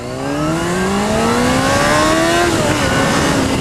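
A 2005 Honda CBR 600 F4i sportbike fitted with an RS5 exhaust revs loudly and close, its engine note climbing steadily in pitch for a few seconds before easing off, with no talking over it.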